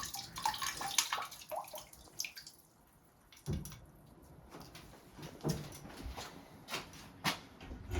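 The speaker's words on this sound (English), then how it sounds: "now dump that water out in the bucket down there." Water drained from a washing machine pours and splashes into a bucket at a snowed-in remote homestead, a faint, uneven gush with clattering knocks and drips rising and falling throughout.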